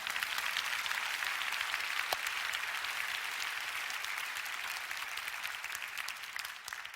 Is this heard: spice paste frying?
no